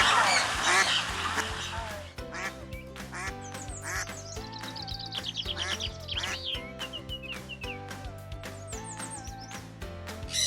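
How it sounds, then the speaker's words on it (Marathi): A duck in an aviary in Costa Maya, Mexico quacks repeatedly in short bursts over a steady, droning background. "बदक बसलं."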